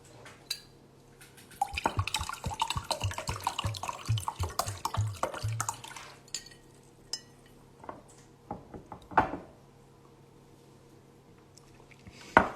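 Water poured from a container into a drinking glass, with clinks and splashy trickles in a dense burst, then a few isolated drips and taps, fairly close in a quiet room.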